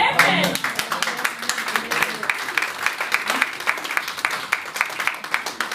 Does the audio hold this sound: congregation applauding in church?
yes